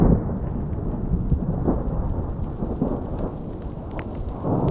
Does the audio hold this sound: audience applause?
no